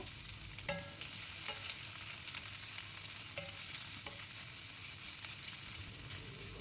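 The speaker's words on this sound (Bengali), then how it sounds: "সেই পেঁয়াজটা আমি দিয়ে দিচ্ছি গ্যাসের ফ্লেম মিডিয়ামে রেখে পেঁয়াজটাকে একটু ভেজে নেব" Chopped onion fries in a pan over a medium gas flame, giving a soft, continuous sizzle broken by light scrapes and taps as it is stirred, quiet and close with no voices.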